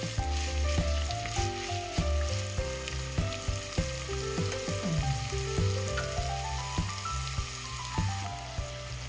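Onions and green chilies frying in a pan, a steady sizzle running beneath loud melodic background music throughout.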